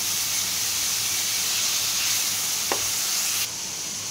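Chicken frying in oil with garlic-ginger paste in a pan, a steady close sizzle and hiss throughout, with a brief stirring scrape near the end.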